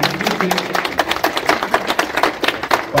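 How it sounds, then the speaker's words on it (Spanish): An audience at a cultural center art exhibition opening applauds warmly, a dense, steady patter of many hands clapping close by for a few seconds with no voices on top. "para quien les pido por favor un fuerte aplauso"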